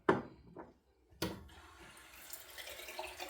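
Water splashes from a running tap during a wet shave with a badger brush, a short burst, a pause, then a steady near rush of flow continuing to the end.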